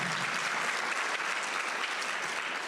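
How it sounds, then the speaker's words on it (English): Audience at a school district event applauds with steady, dense clapping that fills the whole stretch at a constant level, with no talk over it. "we can clap for that."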